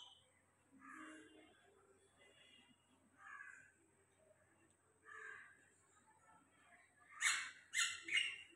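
A crested bird calls from near a window, repeating sharp chirping calls in a quick cluster of three near the end, with softer, fainter calls earlier over a quiet background.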